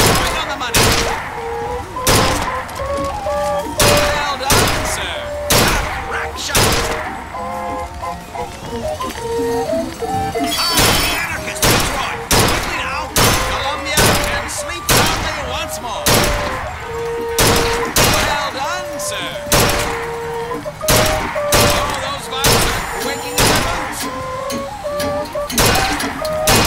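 Rifle shots at a shooting gallery in BioShock Infinite crack out one at a time, sharp and loud, spaced a second or two apart, over background music and a voice speaking.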